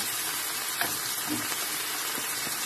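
Tilapia steak fries in a pan with hot oil, giving a steady, close, even sizzle that fills the whole moment, with a few soft pops and scrapes and no talking.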